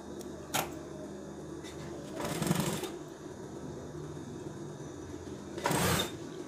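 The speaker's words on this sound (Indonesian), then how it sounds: "seperti ini kita jahit nutup ya teman-teman. Ini nutup jahitan yang pertama tadi ya." A sewing machine stitches a shirt cuff closed in short mechanical bursts separated by pauses, with a quiet room around it and no voice.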